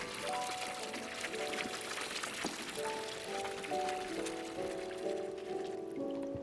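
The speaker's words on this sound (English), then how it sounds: "we are now going to pour the wort into the fermentation container" Beer wort being poured into a fermentation container in a brewing simulator game: a continuous, even rush of liquid, with soft tonal game music running beneath throughout.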